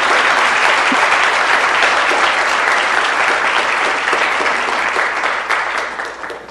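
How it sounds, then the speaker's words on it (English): Big round of loud, dense applause filling a city council meeting chamber, steady clapping from a crowd that tapers off toward the end. "a big round of applause"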